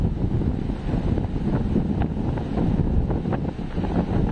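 A strong wind roars and buffets the microphone on a stormy sea coast beside a forest, while waves surge and crash beneath it in a loud, continuous rumble.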